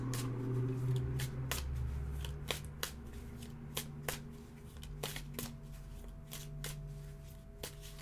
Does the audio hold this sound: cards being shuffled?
yes